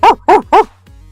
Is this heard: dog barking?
yes